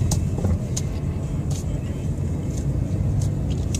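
Steady low road rumble of a car driving in California, heard from inside the cabin, with a continuous engine and tyre drone and faint ticking sounds above it.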